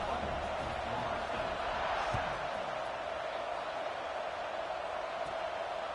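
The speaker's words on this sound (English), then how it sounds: "this crowd is buzzing after that last score" A football stadium crowd at a Florida State game keeps up a steady, loud, broad roar after a score, sustained and even throughout with a brief thump near the middle.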